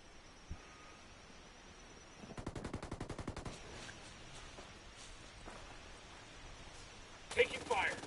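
Rapid burst of automatic gunfire in a first-person video game shooter, a fast even string of shots over about a second, followed by scattered quieter reports and background rumble, with a voice talking.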